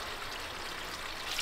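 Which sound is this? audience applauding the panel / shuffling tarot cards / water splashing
water splashing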